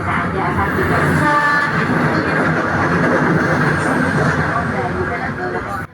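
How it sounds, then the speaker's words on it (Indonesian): Feeder commuter train bound for Padalarang from Bandung passing by at the Ciroyom–Andir section, a loud, close, steady rolling roar of wheels and carriages lasting the whole six seconds before cutting off at the end. "kereta api feeder tujuan Padalarang dari stasiun Bandung sudah melintas di petak Ciroyom Andir"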